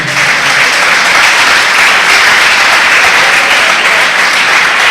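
Loud, dense applause from a large crowd, sustained and even throughout without pauses.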